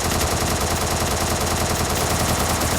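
Rapid gunfire from the mobile shooter game Free Fire, a loud, continuous burst of automatic shots packed densely across the whole moment with no pauses and no voices.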